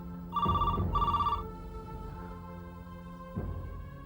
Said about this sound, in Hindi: रजिया खाला का फोन है आपके लिए